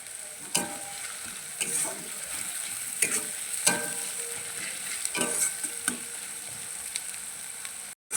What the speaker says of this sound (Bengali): পেঁয়াজটা হালকা লাল লাল করে ভেজে নেব।